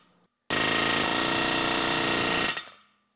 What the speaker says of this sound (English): starting them in straight and driving them the rest of the way in with the air hammer.